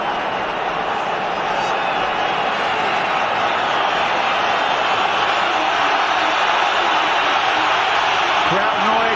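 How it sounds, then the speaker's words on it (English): Steady roar of a large football stadium crowd at England versus Croatia, Euro 2008, as a free kick is about to be taken in added time; dense, continuous murmur filling the whole span, swelling slightly toward the end. "Crowd noise rises."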